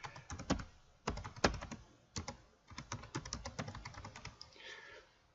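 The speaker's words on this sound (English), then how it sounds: "So if I start typing in" Someone types on a computer keyboard with irregular bursts of crisp, close key clicks and a few heavier thumps, pausing briefly between short runs, with no talking.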